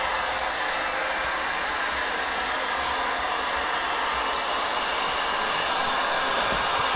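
A hot air blower warms the spoiler of a Tesla Model Y, giving a steady, loud broadband whoosh that holds unbroken from start to end with no voices.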